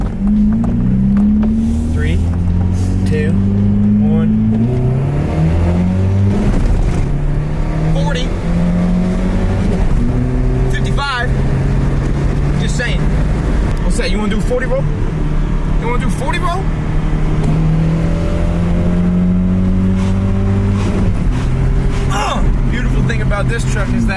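A four-cylinder truck engine with a driver mod revs loudly and repeatedly, rising and falling as it accelerates. Voices talk over the engine noise throughout.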